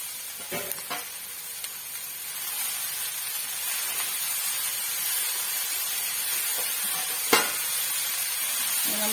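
Spinach thoran with coconut sizzles steadily in a frying pan while being stirred, a constant hissing fry broken by a few soft scrapes and a sharp clack near the end.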